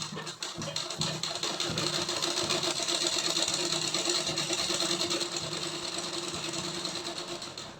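A sewing machine stitches a flared palazzo with a fast, steady mechanical whir and rapid needle clatter that runs close and continuous for several seconds, easing slightly at the end.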